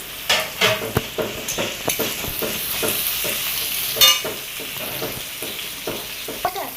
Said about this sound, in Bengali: আমি ওদিকে আলুটা ভেজে নিই।